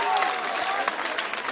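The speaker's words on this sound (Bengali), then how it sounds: "একটা জোরদার হাততালি হয়ে যাক।" A crowd at a BJP public rally in Lebutala Park claps in a loud, dense burst of applause, while a voice carries over the clapping.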